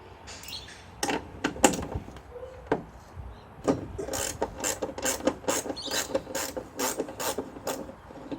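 A spanner working on a gas strut of a 6x6 Perentie ambulance, giving quick irregular metallic clicks and ratcheting taps in bursts, close and fairly loud, with short pauses between.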